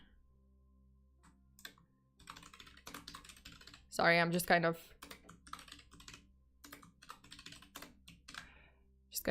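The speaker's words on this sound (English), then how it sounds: "typing it in" Computer keyboard typing in a rapid run of light clicks and bursts, close and moderately loud, with a person speaking briefly over it partway through.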